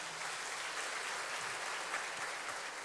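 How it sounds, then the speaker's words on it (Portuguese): A church congregation, standing during a service, applauds in a sustained, even roar of clapping that is fairly soft and distant and carries no talk. "pode aplaudir"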